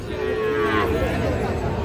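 A Sahiwal breed bull or calf moos once in a long drawn-out low call at a busy cattle market, close and loud over a bed of crowd murmur.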